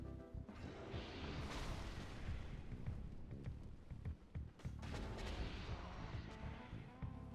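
Booming explosion effects and heavy crashes from the game Dark Souls rumble in a dense, continuous roar with repeated low impacts, fairly faint overall.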